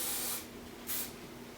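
Hairspray aerosol spritzed onto styled hair in two short hissing bursts, close and fairly soft, with a brief pause between them.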